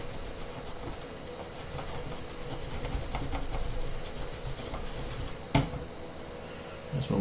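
Close, steady rubbing and scraping while a PlayStation 3 part is cleaned during an overheating red-light repair, a continuous rasping texture with a couple of sharper knocks near the end.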